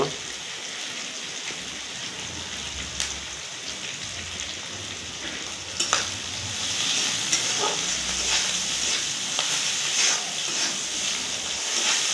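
Prawns fry with bottle gourd in a pan, giving a steady rain-like sizzle and crackle throughout, with occasional sharper pops and a few stirring clatters.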